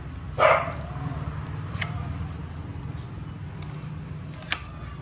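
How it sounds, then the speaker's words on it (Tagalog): A single sharp dog bark rings out near the start, followed by a steady low hum and a few faint clicks. "Yan, mga aso ni Kiray. Aso ni Bossy."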